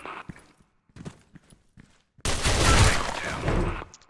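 Gunfire in the shooting game Special Force 2, a sudden loud burst of rapid shots that roars on for over a second after a stretch of quiet clicks and small movement sounds, close and dominant.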